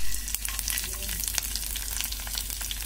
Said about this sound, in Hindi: और इन सब के अच्छे से फ्राई होने तक हम लोग इसे फ्राई करेंगे।